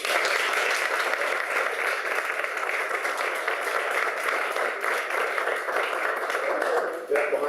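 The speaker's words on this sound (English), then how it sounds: "We have a round of applause." A city council meeting audience gives a volunteer for the Forest Service a round of applause, continuous brisk clapping from a roomful of people, steady and fairly loud, with faint voices mixed in before it tapers at the end.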